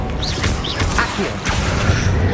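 Accio summoning spell in Hogwarts Legacy, a quick whooshing pull with whistling sweeps and a mechanical clatter, set against a steady low game ambience.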